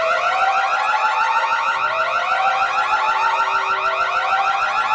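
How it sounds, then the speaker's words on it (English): An electronic security alarm sounds on opening, a loud, continuous warbling siren that cycles rapidly without pause throughout. "Be very careful, alarm may sound"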